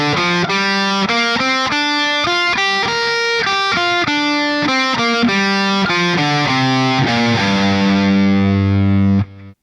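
A distorted electric guitar plays a scale up and down in an even, bouncy eighth-note rhythm, each note clear and loud, ending on a long sustained note that rings out and cuts off.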